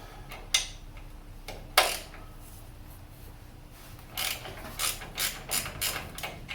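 Ratchet clicking on 3/8 Allen socket head brake caliper bolts on a Chevy front brake job, a couple of sharp cracks as the bolts break loose followed by a run of quick ratcheting clicks, close and fairly quiet.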